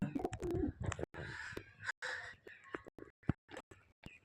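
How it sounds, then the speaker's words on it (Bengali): Home-bred domestic pigeons coo in short, low, throaty bursts, broken up by sharp clicks and knocks of handling nearby, with a faint voice murmuring in the background. "সব বাড়ির বাচ্চা করা পায়রা"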